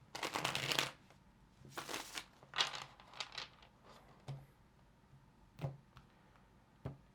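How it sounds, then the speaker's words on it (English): Tarot cards riffle and shuffle in several quick bursts, followed by soft single taps and slides as cards are set down, close and quiet. "Let's get one more shuffle."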